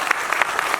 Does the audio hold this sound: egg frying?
no